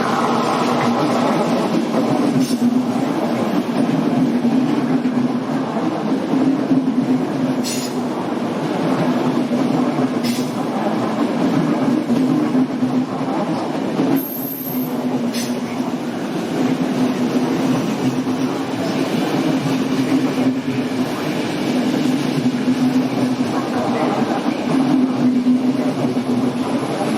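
A Thalys or ICE train rumbles through Brussels-North station, a loud, steady rolling roar with wheel clatter and occasional squeals and clanks, heard close and continuous.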